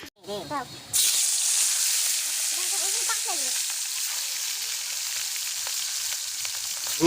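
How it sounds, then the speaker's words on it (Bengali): Fish frying in a wok of hot oil gives a steady, loud sizzle that begins abruptly after a moment and carries on without a break, with brief voices heard at the start and in the middle. "এবার কিন্তু মাছ ভাজা কিন্তু পালা। আর কড়াই কিন্তু গরম হচ্ছে, ওদিকে তেল মেল দিয়ে রেখেছে।"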